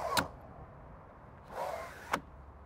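Latch clicks on a European camper window, with two sharp separate clicks and a soft shuffling sound between them, recorded close up over a quiet background.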